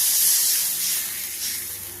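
A bowl of water poured into a hot pan of spiced oil with black cumin and green chili erupts in a loud, steady hiss that fades slightly over a couple of seconds.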